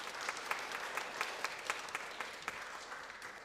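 A conference audience gives a round of applause for a keynote speaker at a mental health and Christianity event, a soft, fairly distant patter of clapping that holds steady throughout.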